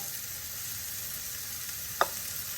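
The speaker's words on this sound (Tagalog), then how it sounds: "I-spread natin yung mushroom sa kawali." Mushrooms spread in a pan for an omelette fry with a steady, even sizzle throughout, broken once by a brief sharp click near the end.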